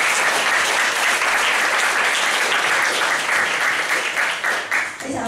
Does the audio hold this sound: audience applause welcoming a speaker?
yes